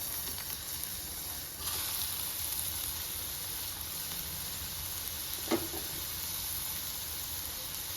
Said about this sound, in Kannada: ಸಣ್ಣ ಕಚ್ಚಿರೋ ಅಂಥ ಈರುಳ್ಳಿನ ಇವಾಗ ಹಾಕ್ತೀನಿ